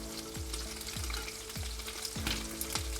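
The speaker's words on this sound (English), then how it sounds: "I'm gonna cook it in low heat so it can simmer gently while we make the rest of the dish." Meatballs frying in a pan over low heat, a steady close sizzle with periodic spoon scrapes as they are turned.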